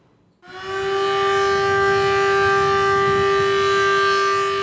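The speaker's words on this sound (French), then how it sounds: "la sirène alerte le personnel sur un incendie" A fire alarm siren blares during a workplace fire drill, a loud steady wailing tone that starts abruptly and holds continuously with strong harmonics, no talking.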